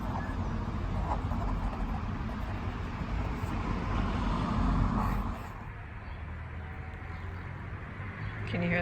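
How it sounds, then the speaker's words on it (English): Cars pass along a city street, their tire and engine noise swelling loud and near before easing off and giving way to quieter background traffic. "And then those cars repeatedly going by."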